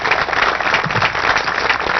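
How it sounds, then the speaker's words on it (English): Steady applause from a crowd at a wiffleball championship game, dense clapping throughout with no voices standing out. "Do we already give them one more round of applause?"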